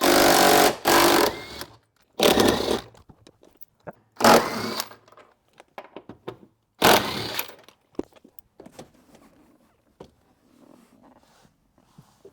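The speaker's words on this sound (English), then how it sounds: "Okay, so I'm gonna go ahead and start removing these 14mm bolts." Power tool driving out 14mm bolts from the interior of a 1991-2005 Acura NSX, in four loud whirring bursts separated by pauses, with faint clicks and handling noises after them.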